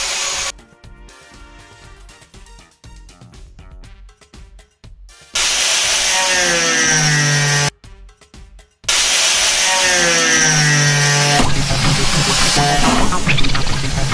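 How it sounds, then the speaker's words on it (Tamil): A cutting machine slices through a plastic drum, marked for an air cooler build: a loud, steady grinding whine in long bursts, separated by quieter passages of rattling clicks and a short silent gap. "கட்டிங் மிஷின் வச்சு கட் பண்ணிகிட்டு இருக்கும்போது பார்த்தீங்கன்னா பிளேடு உடஞ்சி போச்சு"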